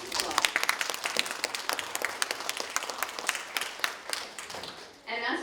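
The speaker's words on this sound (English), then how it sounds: "Let's give her a round of applause" Audience applause at a panel event on spirituality and community activism, a steady patter of many hands clapping for several seconds before tapering off, followed by a brief voice at the end.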